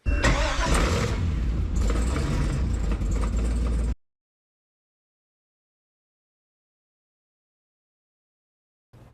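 A Chevrolet Corvette Stingray with a 6.2-liter V8 runs loud and close for about four seconds, a rough throaty rumble with a brief rev, then cuts to silence.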